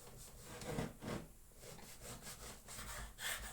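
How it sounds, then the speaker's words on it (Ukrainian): Knife sawing through a long bread roll on a cutting board set on a towel, a few soft rasping back-and-forth strokes heard close and fairly quiet. "Ось така довгенька булочка, ріжу її на оскізь."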